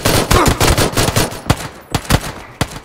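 Micro Uzi gunfire in the PlayerUnknown's Battlegrounds video game: loud, close automatic bursts of rapid shots, then a few separated single cracks toward the end, with no voices over them.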